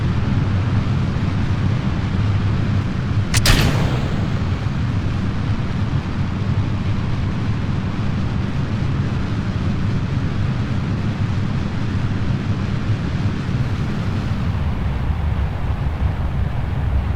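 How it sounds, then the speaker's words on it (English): A loud, constant roar of rocket engines during liftoff in Kerbal Space Program fills the clip, with one sharp burst of a small stage explosion early on, then the rumble continues. "Minor explosion there."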